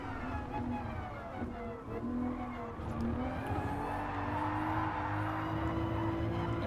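Car tires sliding and squealing on a race track in Gran Turismo Sport, driving a Supra, with a steady engine drone rising in pitch and a sustained tonal squeal under it throughout.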